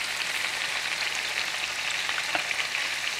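French fries frying in peanut oil, a steady close bubbling hiss with faint crackles throughout and no voices.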